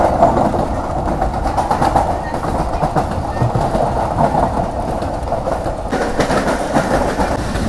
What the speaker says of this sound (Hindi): ट्रेन अभी अप्रोच कर रही है तक्षशिला शहर को।